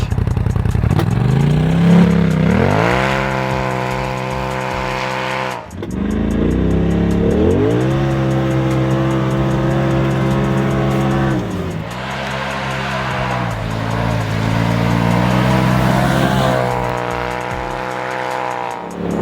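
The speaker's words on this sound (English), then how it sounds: "now I want to show you guys a 4-wheel drive boost launch." A Polaris RZR XP Turbo fitted with Kimpex WSS4 snow tracks performs repeated four-wheel-drive boost launches on snow, the engine revving hard and climbing in pitch three times, loud and close, with brief drops between pulls.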